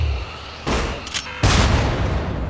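Gunfire in the shooter Syndicate comes as loud, close bursts, a short volley followed by a longer sustained fusillade of shots over rumbling background action.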